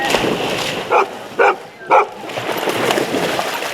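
Dogs bark at a pool on a dogs-only swim day, three sharp barks in quick succession amid splashing water and a background murmur of outdoor activity.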